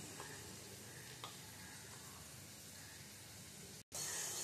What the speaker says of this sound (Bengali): আলুটা প্রায় লাল লাল করে ভাজা হয়ে এসেছে